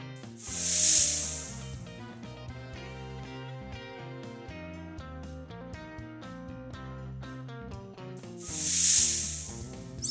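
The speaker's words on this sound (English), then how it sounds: "Snake." Two short bursts of snake hissing, near and breathy, one at the start and one at the end, with steady music playing throughout.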